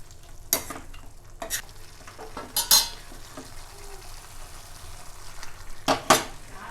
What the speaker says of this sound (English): we'll give it a little mix and let it fry for 5 minutes without putting the lid on